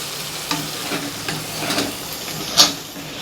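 Sliced onions frying and being stirred in hot oil to make birista for mutton biryani, a steady close sizzle with scraping stir strokes and one sharper spatter burst, no talking.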